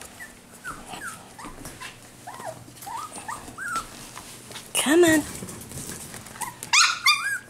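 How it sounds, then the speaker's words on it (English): Cavapoo puppies whimper and yelp in high, rising cries, with sharper barks and yips bursting out near the end. A person speaks softly underneath. "Oh, silly puppies."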